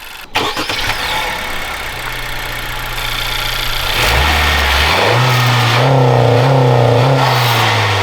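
An 11th-generation Honda Civic hatchback engine with a PRL Stage 1 intake starts up close by, idles, then gets a few light revs that rise and settle back.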